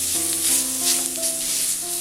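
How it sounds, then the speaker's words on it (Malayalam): Tender jackfruit sizzles and fries in a pan as it is stirred, a continuous close crackle with no voices. "ഇത് നന്നായിട്ടൊന്ന് മിക്സ് ചെയ്തെടുക്കാം."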